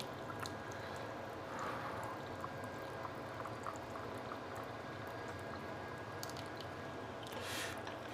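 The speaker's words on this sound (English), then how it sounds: "So I'm draining them right there in the sink" Boiled Brussels sprouts being drained in a kitchen sink, a faint continuous pouring and splashing rush of water with soft bubbling and squishing.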